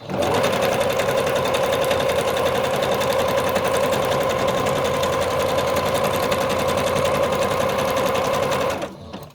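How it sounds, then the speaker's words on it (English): A sewing machine stitching zigzag at speed, its rapid mechanical whir and stitching clatter continuous and loud before stopping abruptly at the end. "I love listening to the sound of the sewing machine"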